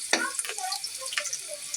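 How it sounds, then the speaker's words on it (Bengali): Onion dropped into very hot oil in a kadai, with a sharp hiss at the start followed by a few short sizzling bursts and crackles over a low background. "চুলায় কড়াই বসায়া আমি এই যে দিয়ে দিলাম পেঁয়াজ।"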